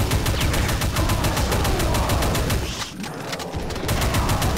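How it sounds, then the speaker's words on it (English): Rapid, loud shotgun blasts from the Super Shotgun in Brutal Doom, firing in a dense, repeated volley with barely a pause except for one brief dip partway through. "There's a special shotgun in this game known as the Super Shotgun."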